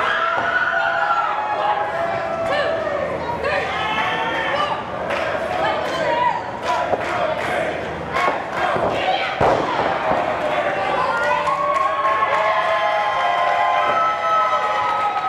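A wrestling crowd in Hialeah, Florida cheers and shouts around a women's title bout, the loud, lively din mixed with thumps and slams from the ring while a commentator talks over it.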